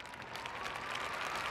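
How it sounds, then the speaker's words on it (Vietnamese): Audience at a Vietnamese televised community event applauds team 8A4 at a prize award: steady, dense clapping from many hands, fairly faint and distant, with no voices over it. "Chúng ta cho tràng pháo tay để chúc mừng đội 8A4."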